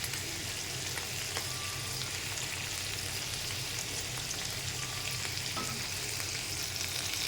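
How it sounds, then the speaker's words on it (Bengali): Hilsa fish pieces sizzle steadily in hot oil in a home kitchen, a continuous dense crackling frying hiss, close and even, with occasional faint clinks and no talking. "সামান্য ভেজে নিতে হবে, বেশি ভাজা যাবে না"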